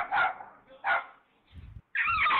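A dog, reportedly a corgi, gives several short sharp barks and yips in quick bursts during a scuffle with a cat, close and fairly loud with brief gaps.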